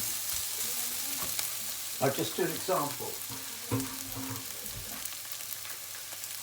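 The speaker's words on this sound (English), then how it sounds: "Now, I'm stirring this, getting darker brown." Chicken fries steadily in a pan while a person talks briefly over it, with occasional scraping of a utensil stirring it as it browns.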